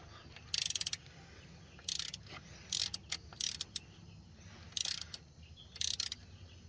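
A ratchet works the thermostat housing bolt on a Jeep Wrangler, giving six quick bursts of sharp clicking separated by pauses, close and fairly faint over a low rumble.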